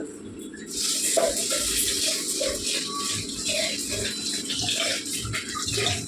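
Soaked rice being washed by hand in water, a continuous close swishing and sloshing that starts after a brief quiet moment and carries on steadily.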